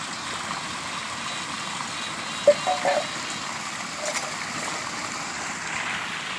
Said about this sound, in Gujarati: પાણી જાય જુઓ તમે